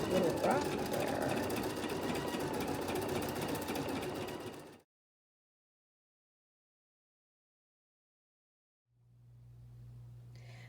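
Sewing machine quilting, a fast steady mechanical whir and stitching rattle for several seconds that stops abruptly, followed by silence and then a low hum as the machine starts again.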